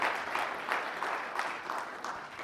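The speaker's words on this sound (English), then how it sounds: "let's give him a round of applause" Round of applause from a conference session audience: steady, fairly faint clapping from a modest crowd with individual claps standing out in a quick, even rhythm, no talking over it.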